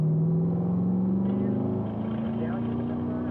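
A Chevrolet Corvette engine runs at full throttle on a race track, a loud sustained drone with pitch climbing steadily, as an instructor talks over it.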